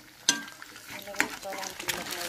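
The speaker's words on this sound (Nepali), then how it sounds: "अन्डालाई यतिको फ्राई गरेँ" Egg frying in a pan for a gundruk dish, with a soft steady sizzle and a few sharp scrapes of a utensil stirring it, fairly quiet and without talk.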